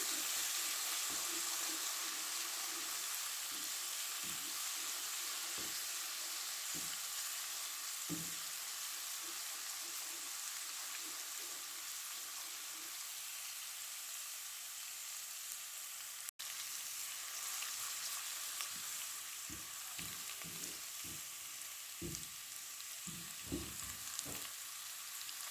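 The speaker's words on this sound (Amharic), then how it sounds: "ነጭ ሽንኩርቱ እንደዛ አቁላልቸዋለሁ።" Garlic sizzles and fries in a pan, a soft, steady crackle with occasional stirring knocks and scrapes, fairly quiet throughout, with no talking.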